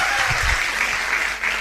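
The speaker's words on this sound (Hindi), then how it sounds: "तो जोरदार तालियां दोस्तों" Audience applause at a motivational business seminar, steady crowd clapping heard briefly, moderately loud and continuous.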